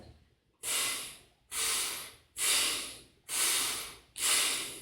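Five strong, evenly spaced forceful breaths in a rhythmic breathing exercise, each a sharp nasal hiss that swells and fades, separated by short silent pauses, close and loud with no talking.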